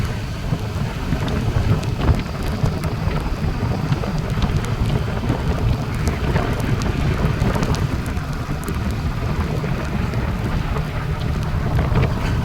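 Heavy monsoon rain pours steadily in a ghat near Kapde Budruk after days of continuous downpour, a dense, loud, unbroken roar with wind buffeting the microphone throughout.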